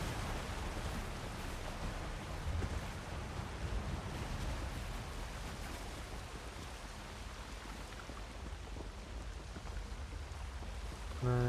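A waterfall in The Elder Scrolls Online rushes as a steady, dense hiss of falling water, continuous and moderately quiet, with no talking over it.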